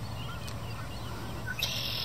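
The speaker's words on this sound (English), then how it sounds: "Like this red-winged blackbird up behind me." A red-winged blackbird calls outdoors in sunshine, giving a faint, brief chirp or two well in the distance over a steady low background rumble.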